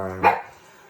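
A single sharp dog bark rings out close by indoors, cutting in over a fading voice and then dying away.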